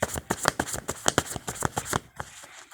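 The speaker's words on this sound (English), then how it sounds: "But I'm going to keep shuffling here" Tarot cards being shuffled by hand, with a quick irregular run of crisp riffling snaps and soft slaps that are close and clear, then trail off into quiet.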